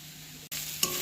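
A spoon stirs potatoes and peanuts, added to sautéed beet and carrot, in a frying pan for vegetable chops: close scraping over a steady sizzle, a brief break, then louder frying hiss with a sharp clink.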